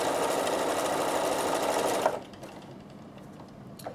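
Bernina sewing machine running a continuous zigzag stitch over a bar for about two seconds, loud and steady, then stopping abruptly, leaving faint handling clicks in a quiet room.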